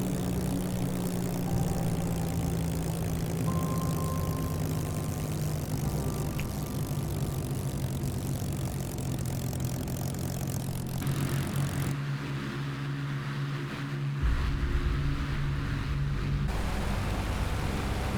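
A Flying Iron Simulations Mark 9 Spitfire in Microsoft Flight Simulator drones with a steady piston engine and propeller hum that holds for the whole stretch, shifting in tone partway through.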